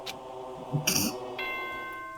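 A short electronic announcement chime from the video game Danganronpa 2, a few bright sustained tones in sequence with a lingering ringing tail, clear and alone.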